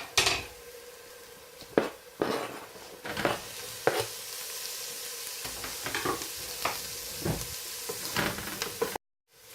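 Courgettes and red peppers frying in a pan, a steady sizzle broken by frequent scraping and stirring knocks of a utensil against the pan, close and fairly loud, with no talking.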